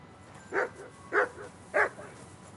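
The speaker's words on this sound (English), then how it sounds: "Aye, aye, you silly doggy. Here, Mutt!" A dog in Kingdom Come: Deliverance 2 gives three evenly spaced barks at moderate distance over quiet background.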